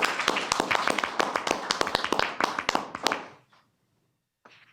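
A small audience at a city council meeting in Oldsmar claps for about three seconds, with sharp, close, uneven hand claps that quickly taper off into silence.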